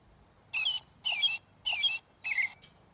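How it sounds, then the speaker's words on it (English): Recorded robin song plays back through a small speaker outdoors: four short, evenly spaced bursts of bright warbling phrases, each about a quarter second long, clear and moderately loud over quiet background. "Green tab, green button is the robin sound."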